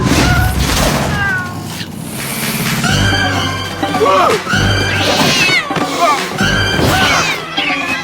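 Magical cats burst from a fan in a film scene, meowing and caterwauling loudly in layered, wavering cries over a dense mix of effects and music, with a voice talking over them.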